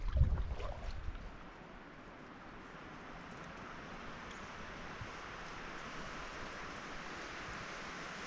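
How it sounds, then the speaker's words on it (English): Steady wind blowing across a lake on a paddling trip, a broad even rush of air and lapping water that holds constant for several seconds after a brief louder bump at the start. "you probably hear in the background the wind"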